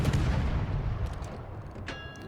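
Naval gunfire from the destroyer HMS Cossack in World of Warships, a dense, continuous rumble of booming shots with no pauses and a brief metallic ringing tone near the end.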